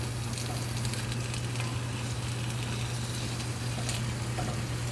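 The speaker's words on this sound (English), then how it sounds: "take 1 pound of ground beef and 1 pound of venison and get it cooking over here in my" Ground beef and venison sizzle steadily in a large cast iron pan, a dense, even crackle that holds for the whole stretch with no talking.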